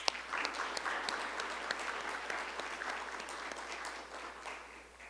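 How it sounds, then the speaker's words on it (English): Audience at a nonprofit funding forum clapping, a steady, dense round of applause from a roomful of people that fades slightly toward the end. "let's give them another round of applause"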